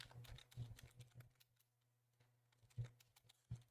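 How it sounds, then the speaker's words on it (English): Quiet tapping of keys on a computer keyboard, irregular clicks in small clusters with a couple of sharper, louder strokes near the end, close up and with no voices. "I gotta get a new keyboard."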